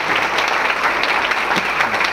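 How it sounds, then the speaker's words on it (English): Steady applause from an awards ceremony audience, a dense, even wash of many hands clapping at moderate distance with no break. "please, a round of applause for her"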